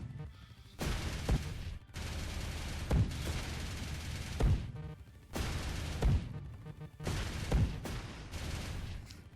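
Rapid gunfire bursts shooting down incoming missiles in the on-rails VR shooter Sky Squadron, sustained loud volleys in several long runs separated by brief pauses, with sharp impact cracks punctuating the barrage.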